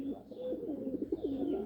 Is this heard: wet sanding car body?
no